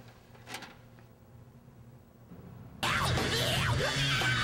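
Car stereo playing a CD: a quiet cabin with faint handling noise, then loud, dense music with heavy bass booming in abruptly and filling the rest.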